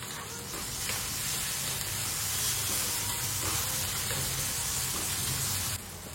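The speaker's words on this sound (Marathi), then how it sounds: "कांद्याचा कलर चेंज झाला की आता आपण ह्यामध्ये टाकलेला आहे बारीक चिरलेला टोमॅटो" Finely chopped tomato sizzling with plenty of onions in a pan for Kolhapuri-style prawn masala, a steady, even frying hiss throughout, close and moderately loud with no talk.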